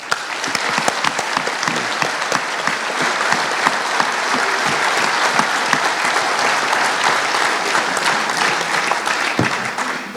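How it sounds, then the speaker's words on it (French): An audience at a union congress claps steadily and loudly for about ten seconds, a dense, even wash of applause with no voices rising above it. "merci de les applaudir"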